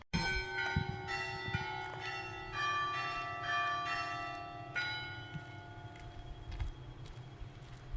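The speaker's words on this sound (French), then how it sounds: "Le carillon n'est jamais le même en fonction du temps liturgique de l'année." Carillon bells of Bayeux's Notre-Dame cathedral ringing a sequence of struck tones over a sustained resonant hum, heard at a moderate distance and fairly quiet, with no talking.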